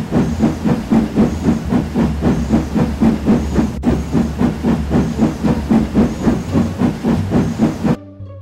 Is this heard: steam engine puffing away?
yes